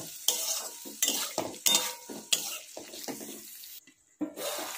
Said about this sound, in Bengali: এর মধ্যে আমি মটরশুঁটিগুলোকেও দিয়ে দেব, দিয়ে আবারও একটু ভেজে নেব।